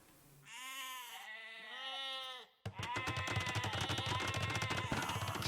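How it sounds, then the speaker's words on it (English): Sheep bleating in the video game Age of Empires II, a couple of drawn-out wavering bleats followed by a dense stretch of game sound effects with rapid clattering hits, no talking. "using the sheep to scout"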